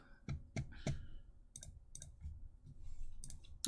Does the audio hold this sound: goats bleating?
no